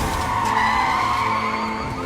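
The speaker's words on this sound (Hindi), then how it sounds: "दरअसल हियोन और ली गाड़ी लेकर सही समय पर वहां पहुंच गए थे" A car skids to a stop on arrival in the series Sweet Home, one loud, sustained tire squeal lasting about two seconds that fades slightly at the end.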